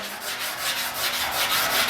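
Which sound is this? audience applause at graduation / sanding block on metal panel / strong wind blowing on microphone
sanding block on metal panel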